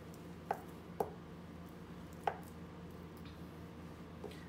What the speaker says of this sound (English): Now I'm just gonna cut butter into cubes